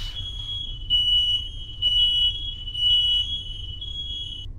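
A household fire alarm shrieks with a steady, piercing high electronic tone that pulses slightly louder every second or so, continuous and close, with no talking over it.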